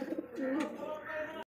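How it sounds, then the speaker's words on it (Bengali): A pair of Rasgolla pigeons coo close by in one short, soft, throaty burble lasting about a second and a half. "দেখতে পাচ্ছি আকাশি কালারের মধ্যে এক জোড়া রাসগোল্লা কবুতর"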